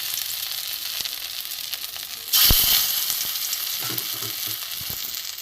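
Potol and dal kofta balls fry in hot oil with a steady, dense sizzle that surges louder partway through, close and continuous, with no talking.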